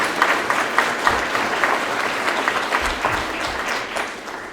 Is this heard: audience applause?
yes